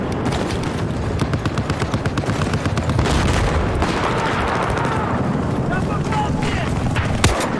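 Battlefield 2042 combat on a remade Gulf of Oman map: dense, rapid gunfire crackles continuously at close range, with a booming impact near the end, a sustained loud battle din without clear talk.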